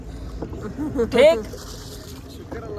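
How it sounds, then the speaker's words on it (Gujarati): A shikara boat pulls away across Dal Lake in Kashmir, with soft water sloshing and a brief swell of paddling or hull noise beneath nearby conversation. "હવે આપણી બોટ હાલવા મળી છે."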